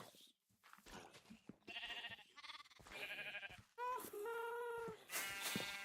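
Several sheep bleat in the game Minecraft, loud harmonic bleats arriving in close succession, some overlapping, with soft game sounds in between.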